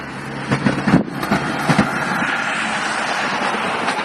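Construction trucks passing on a road, loud and close, a rushing rumble that swells and lingers with wind buffeting the microphone.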